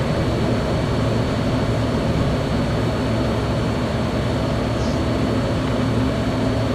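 Steady, loud jet roar of an F-16D climbing out after takeoff in Microsoft Flight Simulator 2024, landing gear coming up, a broad constant engine rush with no voices.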